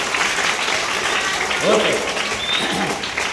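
Students at a school eye-donation awareness talk clap together in steady, continuous applause throughout. A voice speaks briefly over the clapping.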